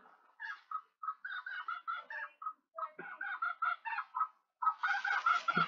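A chicken clucks in a rapid, chattering series of short calls, close and moderately loud, with brief pauses between bursts and no talk.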